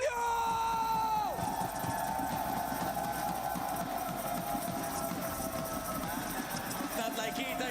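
Crowd at a live esports event cheering and screaming, a loud sustained wash of voices under an announcer's talk, opened by a falling sweep of tones and carrying on evenly to the end.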